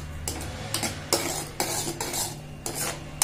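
A spoon scrapes and clinks around a pan while a sweet-sour mixture with lemon juice and sugar is stirred, giving several distinct metallic taps and scrapes at an uneven rhythm, close and fairly quiet.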